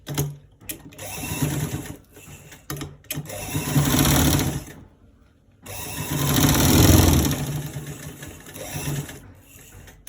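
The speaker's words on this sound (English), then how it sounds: "now we are going to stitch it straight to the what? Straight to the end part" A sewing machine stitches a roll collar in bursts, running steadily for a few seconds, pausing, then running again, loud and close with short gaps of near silence between runs.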